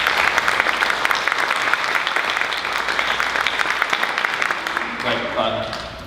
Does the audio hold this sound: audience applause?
yes